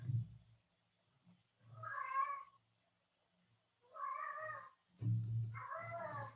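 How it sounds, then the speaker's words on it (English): A cat meows three times, drawn-out and plaintive, close to the listener, with quiet pauses and low rumbling between calls. "Can you hear my cat?"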